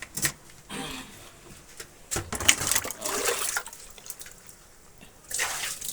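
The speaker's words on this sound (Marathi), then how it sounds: "पाणी टाका." Water splashed onto a floor treated with an anti-slip liquid coating, arriving in several short, close gushing bursts separated by quieter pauses.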